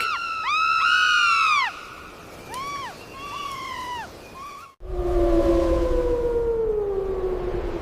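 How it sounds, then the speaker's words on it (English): Colobus monkeys in a Kenyan forest give loud, rising-and-falling shrieking calls in repeated bursts, followed by a long, steady wailing cry over a rushing background. "Colobus monkeys shriek loudly in absolute panic."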